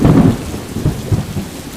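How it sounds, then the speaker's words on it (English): Thunderstorm with pouring rain and wind, deep rumbles rolling in a few low bursts over a steady wash of rain, loud and close with no voices. "The rain was pouring down, and the wind was blowing stronger."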